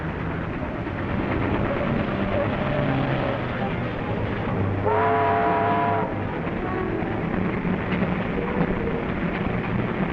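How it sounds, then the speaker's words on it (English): Steam train from a 1939 film serial pulling into the station at Janbury, a steady rumbling roar with a brief whistle-like tonal blast midway, loud and continuous throughout. "There's the train."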